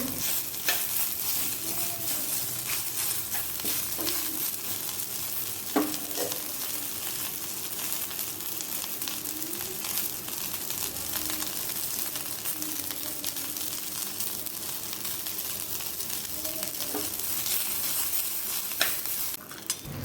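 Thuthuvalai leaves sauté in a pan with salt and tamarind, a steady close sizzle broken by repeated scraping stirs and occasional utensil clinks throughout.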